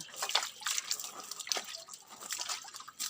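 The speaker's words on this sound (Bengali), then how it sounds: "ভালোভাবে জল দেওয়া হচ্ছে জলটাও তো দেওয়া প্রয়োজন আছে" Water pours and splashes onto bottle gourd plants in a home garden, a steady, soft, hissing trickle with small splashy bursts, close by and unbroken by speech.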